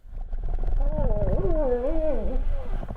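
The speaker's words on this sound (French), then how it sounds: "les baleines à bosse." A humpback whale sings a loud, sweeping, moaning tone that rises and falls in wavering arcs over a deep rumbling underwater background.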